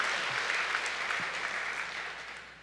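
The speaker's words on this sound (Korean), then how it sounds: "이 양 박수 치려면 제대로 치는 겁니다." A church congregation claps together, a dense continuous wash of applause that gradually fades toward the end.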